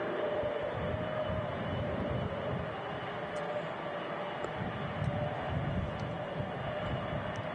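A jet aircraft engine spools down at Manchester Airport, a steady broad roar that holds at moderate loudness throughout with a faint high whine above it and no talking.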